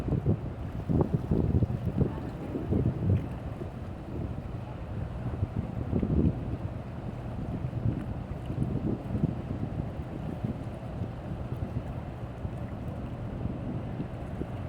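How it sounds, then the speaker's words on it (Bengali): A ship cutting through the Ganges on its way toward the sea past Falta and Diamond Harbour: a steady, low engine rumble mixed with wind buffeting the microphone, continuous and fairly close throughout. "জাহাজটা গঙ্গার বুক চিরে ডায়মন্ড হারবার ফলতা হয়ে সমুদ্রে চলে যাবে।"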